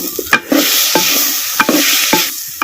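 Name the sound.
stirring eggplant and potato frying in oil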